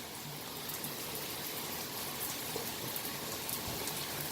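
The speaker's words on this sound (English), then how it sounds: "pouring of rain." Torrential heavy rain pours down in Raeford, North Carolina in December, making a dense, steady, close hiss of water drumming on surfaces with no letup.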